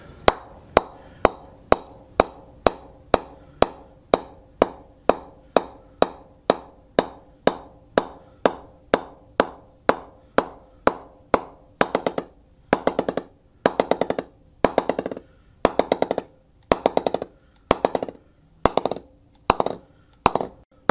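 A steady series of sharp wooden knocks as a ball taps a cricket bat (DSC Valence Allure), evenly spaced, roughly two per second, the later ones ringing fuller and louder, with no voices.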